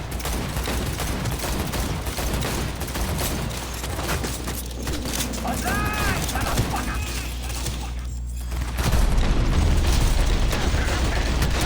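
Gunshots in Cyberpunk 2077 under a loud, busy game soundscape with music and mechanical noise; sharp shots punch through the din, followed by a heavier surge of sound at the end.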